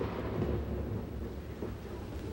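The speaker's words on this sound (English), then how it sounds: "God made the noisy thunder, Brittany." Thunder rumbles low and soft during a thunderstorm, a continuous distant-sounding roll with small swells and no voices.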